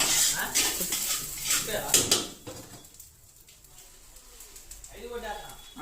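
Eggs beaten with a utensil in a bowl for a home-cooked egg curry, a quick rhythmic clatter of metal on dish in the first two seconds, then quieter kitchen sounds with a voice speaking over them.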